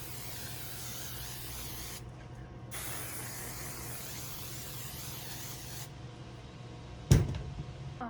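Hairspray hissing in steady aerosol bursts over a squirrel taxidermy mount posed in a running-down position, with short pauses between sprays and a sharp clack near the end.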